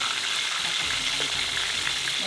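Dried fish cooks in a hot pan in the Philippines with a loud, continuous sizzle and spatter, a constant frying hiss with faint background noise underneath.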